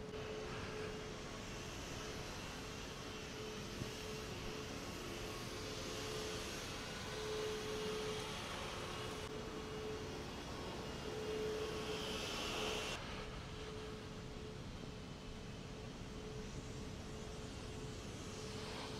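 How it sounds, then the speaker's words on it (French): Vacuum cleaner running inside a mosque, a steady droning whine with a constant tonal hum, held at a moderate distance under the room's echo for the whole stretch, with no speech. "il y a de nouveau l'aspirateur"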